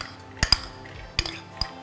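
Metal utensils clink sharply against a bowl while ingredients are mixed, four or five bright separate taps spaced irregularly over a quiet background.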